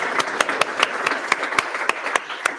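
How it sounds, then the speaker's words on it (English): A small crowd applauds at a tech meetup in Munich, sparse, distinct hand claps over a steady patter, moderately near and continuing throughout. "Can we just get a round of applause?"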